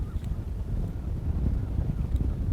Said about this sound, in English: That wind's getting proper nasty now.